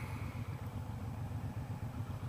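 Suzuki Boulevard M109 BOSS motorcycle engine, 2017 model, running steadily close by with a low, throbbing pulse, alone without talk.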